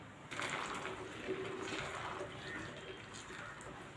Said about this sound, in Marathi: यामध्ये आपण एक चमचा पाणी घालणार आहोत